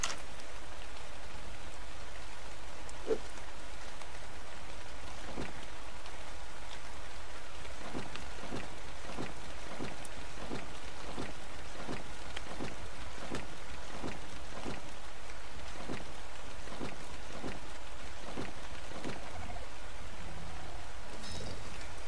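Steady in-game rain from ARK: Survival Evolved hisses continuously, with a quieter run of soft rhythmic thumps through the middle of the stretch and no talking.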